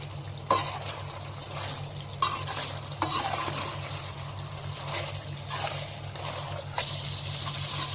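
Chicken 65 being stirred with ketchup in a pan, a constant sizzle broken by several sharp scraping strokes of a spoon against metal, close and clear.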